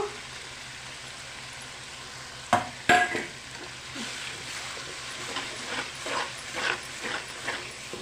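Ginger paste with turmeric frying in a pan for a bitter gourd chutney: a steady low sizzle, then a couple of sharp clanks followed by repeated spoon-stirring scrapes, close by.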